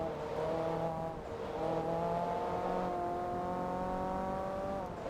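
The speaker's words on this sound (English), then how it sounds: "I love how slight the turbo sounds on this car are" A racing car engine in Forza Motorsport 2 drones steadily with shifting, revving tones and a faint turbo whine underneath, no voices.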